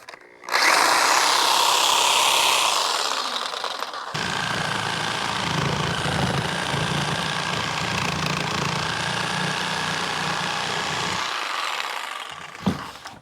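A power saw with a very dull blade, running off a TOPSHAK 1000-watt solar generator, whines loudly at full speed and then bogs into a lower, grinding drone as it cuts through a 2x4, ending abruptly.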